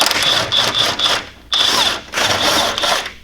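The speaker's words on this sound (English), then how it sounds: "remove the top 3 nuts on the top hat, or the strut mount. So that takes a 12mm socket as well" A power tool with a 12mm socket spins the top strut mount nuts off a widebody FRS during a coilover install. It gives repeated short, whining bursts close by, with brief pauses between them and no talk.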